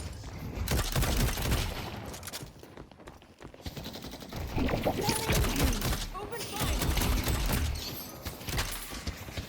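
Rapid gunfire bursts in the shooter video game Deadlock, with clusters of sharp shots and impacts over about nine seconds, mixed with game voice lines and a player talking.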